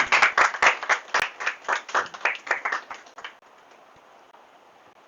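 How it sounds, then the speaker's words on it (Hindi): A group of people clapping hands in a classroom, a brisk dense round of applause lasting about three seconds before cutting off to quiet room tone. "ताली बजाओ भाई"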